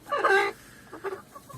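Chickens cluck close by in a short, busy burst, then a few softer clucks follow after a brief pause.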